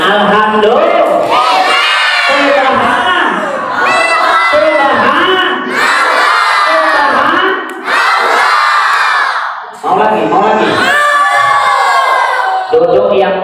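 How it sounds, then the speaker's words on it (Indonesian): A loud crowd of children shouts and cheers at an Isra Mi'raj religious gathering, voices surging in waves with brief dips between bursts. "Nggak usah teriak kali ke situ, duduk yang tenang"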